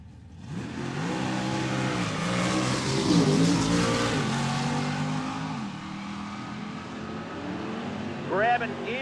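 A 1962 Chevrolet Nova drag car at a drag strip in Sheraton, Iowa roars loudly and steadily, its engine revving through gear changes under an announcer's talk, with another engine note rising near the end.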